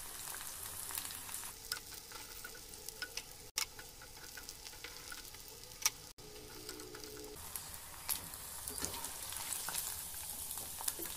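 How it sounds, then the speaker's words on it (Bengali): Cauliflower pakoras deep fry in oil with a constant fine crackle and bubbling sizzle, punctuated by occasional small ticks and stirring clicks, heard close and alone at a low level. "এইভাবে আমি সবগুলো ভেজে নিব।"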